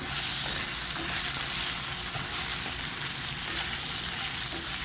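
Pesto potatoes sizzle and fry in a pan, a dense, steady crackle close by while they are stirred, with faint scraping and no talking.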